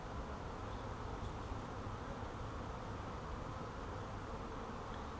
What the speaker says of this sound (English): all these bees are clustered around